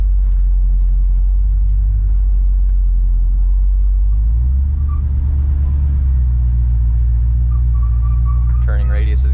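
A 1968 Chevrolet C10 pickup rolls through a slow U-turn, its engine a steady low rumble that deepens and swells partway through as the truck pulls around, with a faint squeak near the end.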